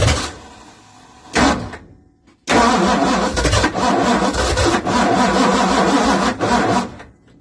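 A 1960 Ford Sunliner engine cranks on a weak battery, a short sluggish burst followed by a longer, loud, steady stretch of strained, labored turning over, close by with no talk.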